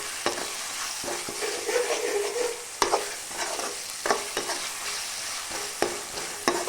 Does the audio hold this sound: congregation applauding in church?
no